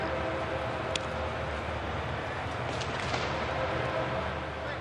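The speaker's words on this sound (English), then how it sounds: "Hear the trains in the background, which the tracks are right outside the ballpark." A low, continuous rumble of trains on tracks right outside a baseball stadium, heard beneath a broadcaster's speech, with a couple of brief sharp clanks.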